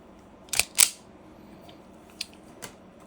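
Wire snipped with a cutting tool, two sharp, close clicks in quick succession followed by two fainter clicks a little later, against a quiet background with no voices.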